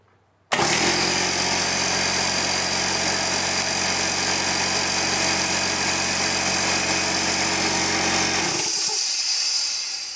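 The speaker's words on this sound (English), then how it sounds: "I'm going to turn on my low end Porter Cable oilless air compressor." A low-end Porter Cable oilless air compressor switches on abruptly and runs with a loud, steady, harsh motor whine and buzz, then begins winding down near the end; no one speaks.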